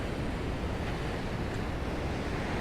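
Waves and wind at the Fanshell Beach overlook on 17 Mile Drive, a steady broadband wash of surf with wind buffeting the microphone, continuous and fairly loud with no talk.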